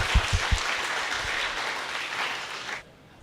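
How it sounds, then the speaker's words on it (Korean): A church congregation at a summer retreat claps for the elders' wives, a dense steady patter of applause with a few loud claps at the start, cutting off abruptly near the end. "우리 그 부인분들을 위해서 박수를"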